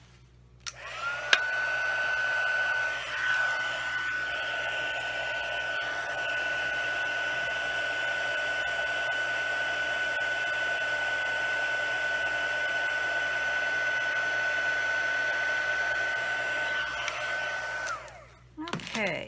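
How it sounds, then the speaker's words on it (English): An embossing heat tool blows hot air in a steady, even whirr that runs for about seventeen seconds with a faint whine, then switches off, heard alone. "So let me move this out of the way and bring back my heat tool."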